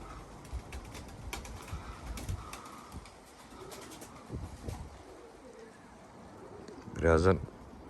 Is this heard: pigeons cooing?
yes